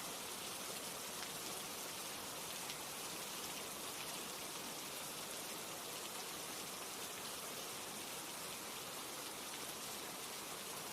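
Steady rain falls for the whole stretch, a dense, even hiss of drops hitting surfaces with no pauses and no voices.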